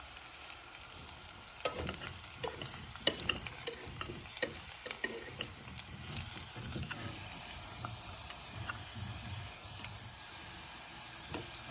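Sweet potatoes sizzle steadily in a hot pan while chopsticks stir them, scraping and clicking against the pan at irregular moments, close by, with no voices.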